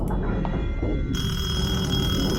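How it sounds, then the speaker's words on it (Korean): An old telephone ringing in the horror video game Detention, a steady sustained electronic ring starting partway through over a low background drone, fairly close and alone without talk. "오 옛날 전화기다"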